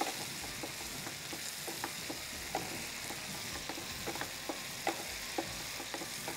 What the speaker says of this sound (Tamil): தக்காளி ஓரளவு நல்லா வதங்குது பாருங்கள்.